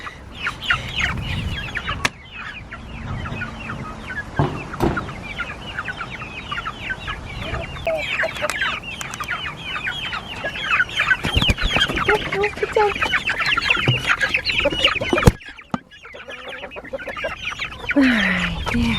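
Young chicks nearly ready to join the flock cluck and chirp close by in a busy, continuous chorus, with occasional handling thumps and brief rustling breaks.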